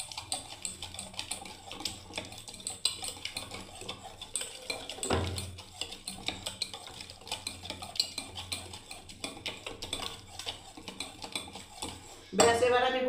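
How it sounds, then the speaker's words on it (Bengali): Yogurt is whisked in a bowl for dahi toast, giving rapid repeated clinks and scrapes of a utensil against the bowl that run steadily throughout, ending with a louder clatter. "দেখুন ফেটিয়ে নিচ্ছি দহি টোস্ট রেসিপির জন্য"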